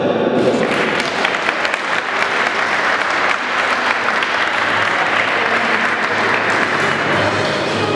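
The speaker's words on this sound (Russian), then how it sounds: "Аплодисменты, давайте еще раз." An audience at a mini football tournament award ceremony applauds steadily, a dense wash of many hands clapping close and loud for several seconds, with no clear talk over it.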